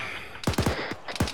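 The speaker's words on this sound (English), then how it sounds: "That's its cannon engaging right now." A-10 aircraft cannon firing in a military combat video game, heard as several rapid bursts of loud, booming reports in quick succession over a rushing background, with no talk.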